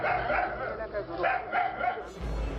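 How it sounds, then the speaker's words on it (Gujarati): A dog 25 feet down inside an old well barks repeatedly at a trapped leopard, several loud, echoing barks in quick succession with a voice partly over them. "પરંતુ અહીં જમીનથી 25 ફૂટ નીચે કૂતરો દીપડાને ધમકાવી રહ્યો છે."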